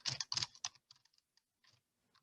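Typing on a computer keyboard while selecting a material for laser engraving: a quick flurry of close keystrokes at the start, then sparse, fainter taps and clicks that thin out.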